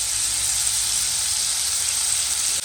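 Prawns fry in a pan for biryani with a loud, steady sizzle, a dense hiss that holds evenly throughout with no talking.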